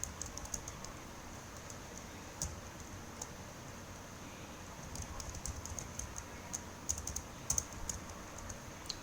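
Rapid typing on a computer keyboard while entering records into an OpenOffice database: quiet, close key clicks in irregular bursts with a few louder taps over a soft background hum.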